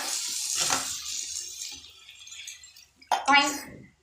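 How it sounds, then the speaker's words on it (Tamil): Water pours into a cooking pot in a home kitchen, a short splashing rush near the end following quieter stirring sounds, close and moderately loud. "தண்ணி ஊற்றியாச்சு."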